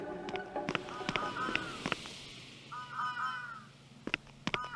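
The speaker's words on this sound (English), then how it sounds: "Is that a bird? Yeah, that is a bird." In the video game Yomawari 2: Midnight Shadows, a crow caws in several harsh calls, mixed with sharp clicks and footstep-like taps, fairly close and clear.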